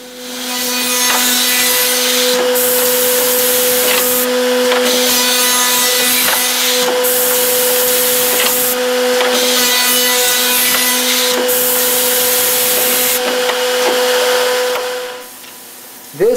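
An Accu Systems CXT CNC machine routing wood, giving a loud, steady cutting whine with a sustained tone, pausing briefly at a few points along the toolpath before stopping near the end.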